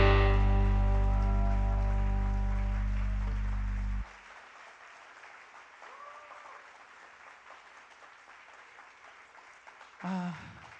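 An audience at a church youth retreat applauds after a song, dense clapping that continues for several seconds after the music's final chord cuts off, then fades to scattered claps, with a brief voice near the end.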